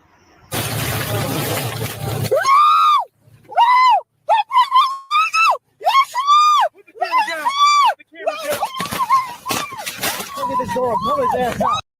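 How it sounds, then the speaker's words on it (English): Man screaming during a police traffic stop, loud high-pitched wails coming in broken, repeated bursts after an opening rush of noise, close and harsh. "Stop screaming like a woman."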